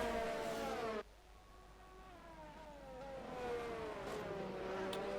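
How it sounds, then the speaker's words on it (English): Williams race car during an Australia practice session, passing on track: after an abrupt cut, an engine whine rises and sweeps in pitch as it approaches and goes by, moderately distant behind the foreground, with no speech. "We can hear some traffic behind Mac Dixon here"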